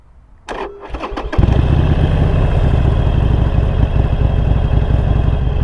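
A motorcycle is started by push button, with a short starter whir and a couple of catching pulses before the engine settles into a loud, steady, close idle rumble.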